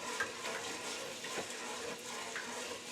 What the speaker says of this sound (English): I'm going to strain all this water off